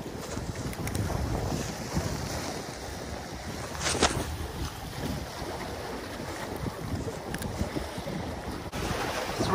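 Wind buffeting the microphone on a rocky shore while angling for mackerel, with steady rushing gusts and the low wash of waves beneath, continuous and fairly loud, no talking.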